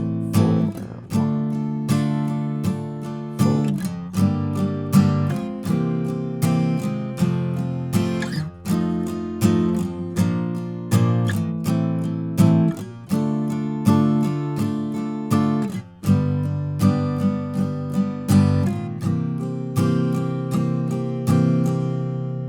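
An acoustic guitar strums chords from the bridge of a song in a steady rhythm, each strum sharp and ringing, with changing chords over a long stretch and no voices.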